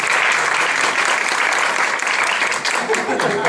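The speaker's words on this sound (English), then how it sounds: "please give a good hand of applause" Vigorous applause from the audience at a Toastmasters club's 300th meeting celebration, many hands clapping densely and loudly throughout, with some voices mixed in.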